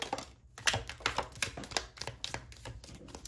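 Cards shuffled in rapid papery snaps and flutters, close and fairly loud, arriving in quick uneven bursts with no talking.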